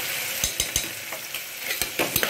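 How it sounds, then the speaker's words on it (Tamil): Ginger garlic paste sautés in a hot pan for Chettinad mutton chukka, giving a steady close sizzle broken by repeated quick scrapes of a stirring spoon, with no voices. "இஞ்சி பூண்டு பேஸ்ட்டு வந்து நல்லா வதக்கிடுங்க."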